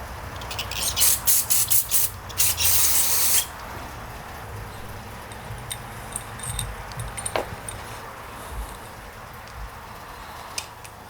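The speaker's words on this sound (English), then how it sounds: "I'll just spray it with carb cleaner and put it back in" Several short bursts of carb cleaner spray hiss in quick succession on a lawn tractor carburetor needle valve part, then a longer spray, followed by quiet with scattered small clicks and taps of handling.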